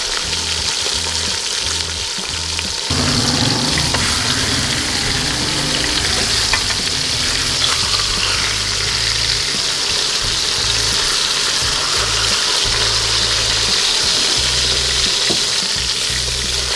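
Chunks of beef sear in a hot pan over an outdoor cooking setup, a steady loud sizzle running throughout with occasional scrapes and clatter as the pieces are moved around.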